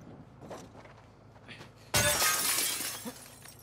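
Glass bottle shattering in the video game The Last of Us Part II: a sudden loud crash with a scattering tail, preceded by quiet footsteps and rustling.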